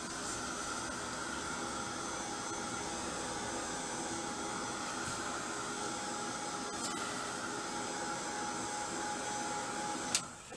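A hand-held blower drying very pale pink paint on an altered picture frame gives a steady, loud rushing hiss that runs unbroken for about ten seconds and cuts off abruptly at the end, with no voices.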